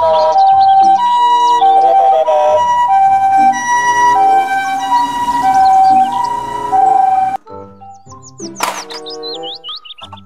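A toy ambulance siren wails loudly with electronic two-tone patterns, then cuts off to quieter chirping electronic tones near the end.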